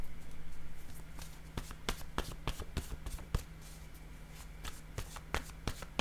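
Playing cards are handled during a card game, producing a run of crisp, sharp snaps and taps that grow denser midway, as if cards are shuffled and laid down close by, with no talk.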